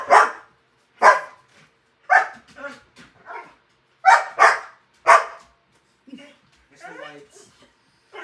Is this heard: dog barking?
yes